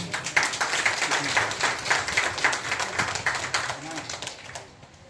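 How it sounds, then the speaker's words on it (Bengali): An audience at a college programme claps for a speaker, a dense, loud, even patter of many hands that holds steady and begins to fade near the end. "একটি জোরে করতালি হোক স্যারের জন্য"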